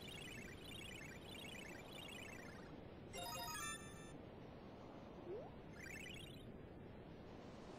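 A cellphone ringtone in Kirby's Dream Land 3 plays as a brief bright burst of tones over continuous game music and chirpy effects, with no talking.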